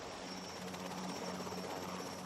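A Royal Wessex helicopter of the Queen's Flight drones with a steady, even rotor and engine hum, moderately distant and unchanging throughout.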